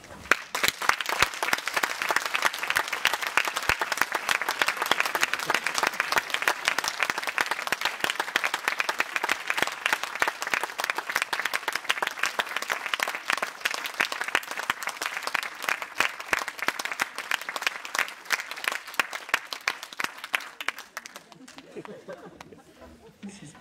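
Sustained audience applause fills a hall at a symphonic orchestra award ceremony, dense steady clapping for about twenty seconds before quickly fading out, followed by a few faint voices.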